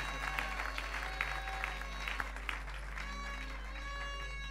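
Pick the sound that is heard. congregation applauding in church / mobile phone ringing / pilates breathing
congregation applauding in church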